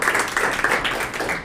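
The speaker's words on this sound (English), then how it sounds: "Clapping for Radhika, everyone." A class clapping for a student during an English grammar lesson, a short loud burst of many hands clapping together at close range.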